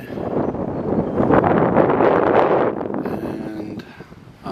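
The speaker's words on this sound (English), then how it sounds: "The wind has picked up a bit" Strong wind buffets the microphone on a countryside walk between Chalfont & Latimer and Chorleywood, a loud continuous roaring rumble that swells and eases for several seconds with nobody speaking.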